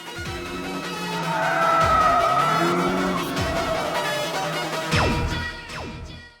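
Tires skid and squeal loudly through an anime mountain race in Initial D, with long screeching sweeps, engine roar underneath and sharp rising squeals near the end, no talk over them.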